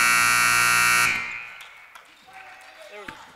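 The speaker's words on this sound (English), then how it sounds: "before the buzzer sounded" A basketball game buzzer at a women's high school game blares loud and sustained for about a second, then cuts off, leaving gym noise and faint voices.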